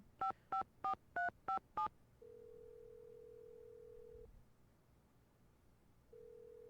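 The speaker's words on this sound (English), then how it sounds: "Let's call Ned back if I can actually pick up the phone." A telephone is dialed in a detective video game: six quick touch-tone beeps, then a long steady tone, a pause, and the tone starting again.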